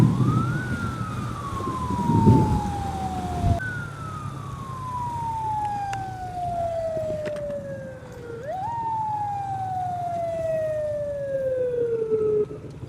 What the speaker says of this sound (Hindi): और ये है जी ईदी की एम्बुलेंस